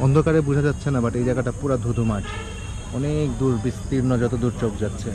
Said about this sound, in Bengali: গ্রামের ঝিঝি পোকার ডাক।